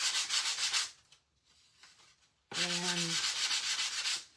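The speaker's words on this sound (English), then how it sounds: "So I am going to take my 120 sandpaper and go over to this side." Sandpaper of 120 grit rubbed over a rough wooden board for a farmhouse sign, giving two close, rhythmic scratchy passes separated by a brief pause and a short spoken word.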